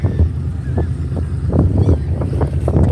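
Gulls squawk and honk repeatedly over steady wind and a low engine rumble near a boat cleaning fish, calls overlapping in a noisy outdoor scene.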